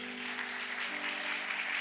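Steady, dense applause from a congregation fills a church worship service, continuous and even throughout with no pauses.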